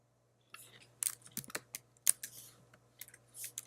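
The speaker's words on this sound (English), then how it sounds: "we're going to type quick GIF" Quick keystrokes on a computer keyboard come in uneven little bursts of close, crisp clicks over a low steady hum, with a short pause between the groups of taps.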